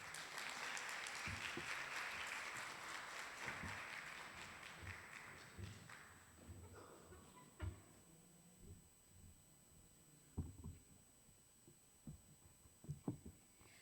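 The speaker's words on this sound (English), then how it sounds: "let's all give her a warm round of applause" Audience at a research-awards session clapping, a fairly faint wash of applause for the first six seconds that thins out into scattered taps and thumps.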